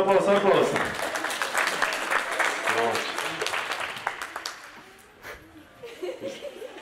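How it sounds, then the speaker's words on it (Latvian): Applause from an audience at a team idea competition, a dense wash of clapping that fades after about five seconds and picks up again more thinly, with some chuckling mixed in. "Aplaus."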